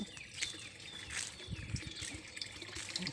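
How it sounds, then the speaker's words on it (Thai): Water trickles steadily through hydroponic growing channels at a resort vegetable garden, a soft continuous flow with faint bird chirps above it and no talking. "ปลูกบนราง น้ำไหลผ่านนะคะ"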